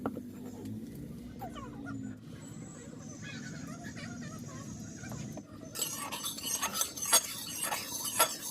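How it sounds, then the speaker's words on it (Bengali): Lentil fritters are turned in hot oil with tongs over a wood stove: soft metallic scrapes and stirring clicks, then a denser burst of frying crackle and clatter toward the end. "এবার আমি সাঁড়াশির সাহায্যে বেশ ঘুরিয়ে ঘুরিয়ে প্রত্যেকটা বড়ার গায়ে যাতে তেল লাগে সেই ব্যবস্থাটাই করলাম।"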